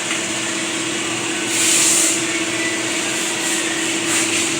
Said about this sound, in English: Let y'all get a look at this 455 big block again, man.